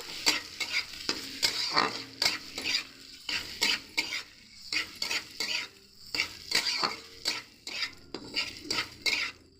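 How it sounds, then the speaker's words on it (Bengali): Grated paneer filling fries in a pan and is stirred vigorously, giving rhythmic scraping and clattering strokes of a spatula against the pan over a sizzling background, close and loud. "একটু ভালো করে আমরা ভেজে নেব সব একসাথে"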